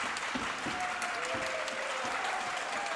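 A student section claps steadily through a pause in a Minnesota high school volleyball match between Barnesville and Hawley, with a moderately loud, continuous crowd patter filling the gym.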